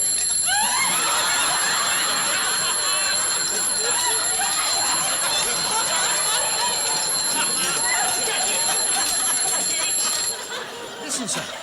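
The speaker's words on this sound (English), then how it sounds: "Sounds like an alarm clock." An old gold hunter pocket watch alarm rings continuously in a bright, rapid metallic jangle, loud and close, running nearly the whole time before cutting off near the end.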